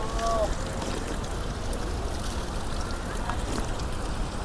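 Water gushes fast from a pipe at a drinking-water point on the Manimahesh Kailash pilgrimage route, a steady broadband rush heard outdoors, with a brief faint voice at the start.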